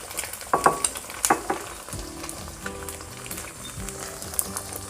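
Four eggs crackle in hot oil in a pan with instant noodles and cabbage, a crisp close sizzle with a few sharp spits early on that settles into steady frying.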